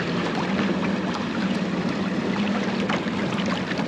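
Overboat silent personal hydrofoil craft moving at displacement speed of about 3 knots, a steady rushing wash of water against the hull with a low continuous hum, close and even throughout.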